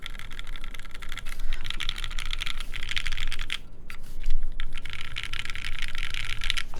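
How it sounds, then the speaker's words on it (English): Rapid clacky typing on a mechanical keyboard, close and steady, pausing briefly midway before the keystrokes resume. "the typing feel on this board is really good"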